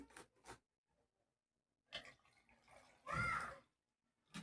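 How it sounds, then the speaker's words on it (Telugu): Water pours briefly into a glass in a short burst that rises in pitch, set against a quiet room with a few soft knocks and splashes before it. "ఇప్పుడు గ్లాస్ తీసుకున్నాను ఈ గ్లాస్లో కొన్ని నీళ్లు వేస్తాను"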